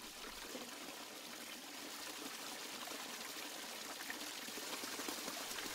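A backyard pond waterfall fed by a 550-gallon-per-hour pump rushes and splashes in a steady, continuous wash of falling water, heard alone and fairly close.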